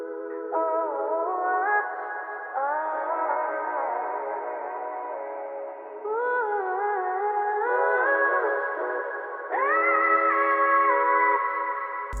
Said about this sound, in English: The last thing I added for the melody was this female vocal,